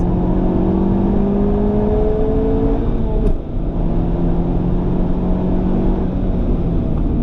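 A Honda Civic Type R, a front-wheel-drive hot hatch, accelerates through a corner, its engine note climbing in a steady rising whine with a brief dip midway as it shifts, heard from inside with road roar underneath.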